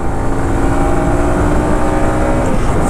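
A Runner Knight Rider V2 150cc semi-racing motorcycle accelerates through its gears, the close engine roar loud and steady with a rising pitch and a brief shift near the end.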